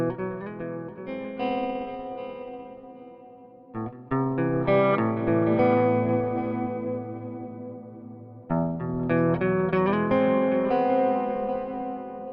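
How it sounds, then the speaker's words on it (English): Electric guitar played through a Synergy Syn-1 with a Soldano preamp module and delay, heard alone as distorted chords and ringing notes that echo and trail off between phrases. "Got a bit of a delay on that as well."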